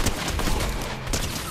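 Rapid bursts of video game gunfire crackle continuously and loudly for a moment and a half, dense and unbroken as though several weapons fire at once in an online shooter match.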